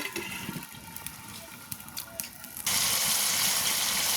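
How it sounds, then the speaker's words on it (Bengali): Water poured into pigeon meat cooking in a pan: faint clinks and quiet kitchen sounds give way to a loud, steady gushing pour that runs to the end. "তো হালকা একটু জল দিয়ে মাংসটা সেদ্ধ করে নেব"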